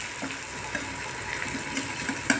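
Mushrooms sizzling in a pan while being stirred, a steady soft frying hiss broken by light scraping and clicks from the spoon.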